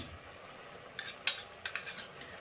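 A spoon stirs bottled ginger garlic paste in a pan, giving a few soft metallic scrapes and taps against quiet kitchen background, fairly close and gentle.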